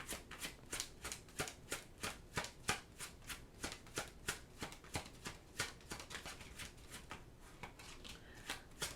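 Tarot cards are shuffled by hand in quick, rhythmic riffling bursts, close and crisp, repeating steadily throughout without any voice.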